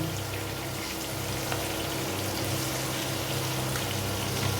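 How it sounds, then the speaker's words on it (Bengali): Rohu fish frying in a pan with turmeric and salt, giving a steady, dense sizzle that holds evenly throughout with no voices. "এবার এটাকে ভালো করে নাড়াচাড়া করে ভেজে নেব"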